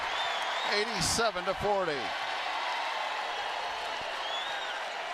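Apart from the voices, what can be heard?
basketball crowd applauding a three-pointer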